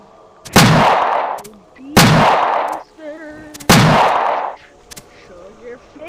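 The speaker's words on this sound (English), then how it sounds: "Let's go shoot the shotgun." A shotgun fires three times in a horror video game, each blast loud and booming with a long decaying rumble, spaced about a second and a half apart, with small game sounds in between.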